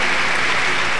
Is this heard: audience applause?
yes